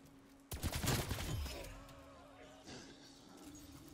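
Rapid automatic fire from a 200-round-magazine weapon in Cold War Zombies bursts in loud and dense after a quiet start, then tapers into scattered softer shots over a steady game hum.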